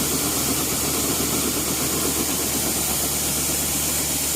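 A New Holland CR920 combine runs while pumping grain during harvest, making a loud, constant engine rumble with a vibrating mechanical hum and no pauses or speech.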